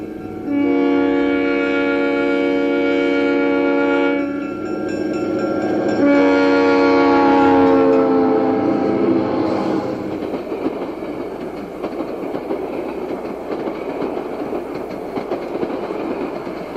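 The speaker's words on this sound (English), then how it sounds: "the westbound Golden State rolls through with E6A number 630 on the point" Southern Pacific Golden State passenger train led by E6A diesel locomotive 630, two long loud chords on the horn followed by a steady rumble and clatter of cars rolling past nearby.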